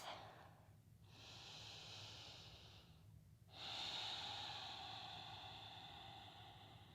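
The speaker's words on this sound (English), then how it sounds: "breathing in and out through the nose" Ujjayi yoga breathing through the nose during a flowing power yoga practice: three long, airy, hissing breaths, close and quiet, each followed by a short pause, with no talking.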